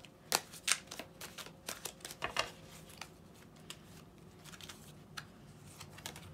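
Tarot cards being shuffled by hand at a reading, a rapid run of crisp riffling flicks and soft slaps at the start, thinning to scattered quieter card taps, close and alone with no talk.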